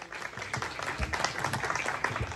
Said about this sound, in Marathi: एकदा जोरदार टाळ्या केएक्सए साठी आणि सगळ्या अँगलर्ससाठी होऊन जाऊ दे